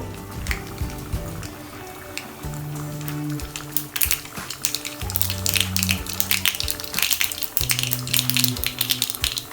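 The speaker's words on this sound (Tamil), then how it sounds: "கொஞ்சமாக கடுகு சேர்த்துக்கலாம் எண்ணெயில்." Mustard seeds fry in oil for a South Indian sambar and tomato rasam, a dense crackling patter that grows busier and louder after the first few seconds, close up, over a low background hum.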